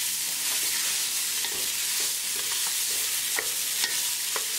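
Mixed vegetables, oats, frozen ingredients and green chili stirred in a pan over medium heat: a steady, close sizzle with scraping and occasional sharp clicks of the spoon against the pan.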